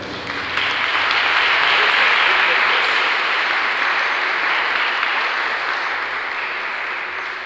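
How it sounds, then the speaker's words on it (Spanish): Audience clapping steadily at a Christmas carol concert by a girls' choir in San Pedro, Coahuila, a dense sustained applause heard alone for several seconds. "para quienes pido un fuerte aplauso."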